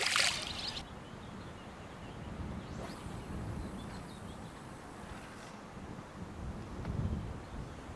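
Steady wind rushes and buffets the microphone outdoors at a carp fishing spot, with a low rumbling gust that swells and fades over several seconds.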